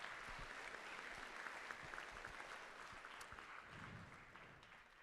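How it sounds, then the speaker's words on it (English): An audience at a miniature painting convention claps steadily for silver medal winners in a painting competition, a dense, even wash of applause lasting the whole stretch without a pause. "Round of applause for these silver medal winners"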